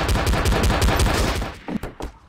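Rapid automatic gunfire from the video game Garry's Mod in a zombie-mode war map rattles loud and close for over a second, then breaks into a few scattered shots.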